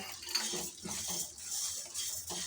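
Parboiled rice being stirred and fried in a pan, with continuous light scraping and clinking of a utensil against the pan over a soft, steady sizzle, close and alone.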